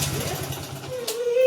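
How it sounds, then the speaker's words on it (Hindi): A motorcycle engine idling with a timing chain rattle, a rapid low mechanical chatter close by, with a brief louder clack near the end. "वो टाइमिंग चैन की आवाज़ है"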